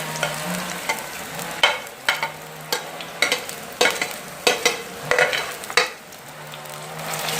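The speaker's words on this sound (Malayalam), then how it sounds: "അതെല്ലാം കൂടി ചേർത്ത് നമുക്കൊന്ന് വഴറ്റിയെടുക്കുക." Shallots, curry leaves, ginger and garlic sizzle in hot oil while a spoon scrapes and stirs them in repeated strokes, roughly one every half second, close and clear with no talk.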